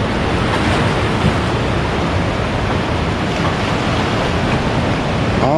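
Ocean waves break and wash onto a Baja California shore beside a stranded boat, a loud, continuous broadband roar of surf with no distinct gaps, heard alone without voices.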